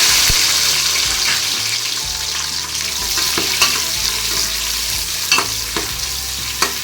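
Crushed shallots, about 100 to 150 grams of small onions, fry in a pan for a black-eyed pea and bottle gourd rice dish, giving a steady loud sizzle with occasional scraping stirs and small pops, close up.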